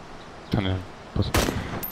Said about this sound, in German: Ich habe auf den Bus geschossen.